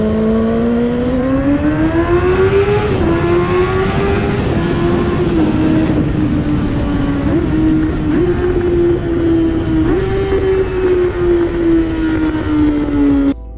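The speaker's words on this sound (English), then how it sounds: "We're in fourth gear right now. We're going to go all the way down to first." A motorcycle rides along as the engine drones with a steady, loud tone that climbs and dips through gear changes while downshifting from fourth toward first, close to the microphone throughout.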